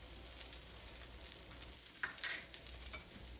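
Shrimp-stuffed eggs frying in a pan give a steady soft sizzle, with a few louder crackles and stirring scrapes near the end, close by and without talk.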